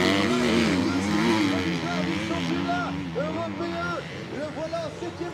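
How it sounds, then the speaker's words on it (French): A motocross motorcycle during a race roars with an uneven, wavering engine note that rises and falls, heard up close beneath a commentator talking over it. "Sa moto, elle fait des bruits assez étranges."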